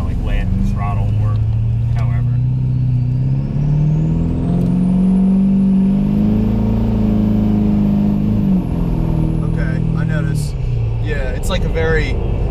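A tuned turbo diesel pickup truck accelerates under throttle, a deep steadily climbing engine drone with a faint rising turbo whistle, heard from inside the cab with people talking over it.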